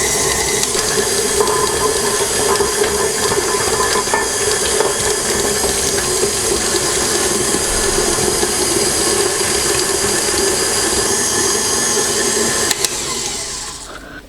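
An electric mixer running at medium speed whips butter as oil is dribbled in, a steady, loud whirring drone that holds evenly throughout and tapers off at the very end.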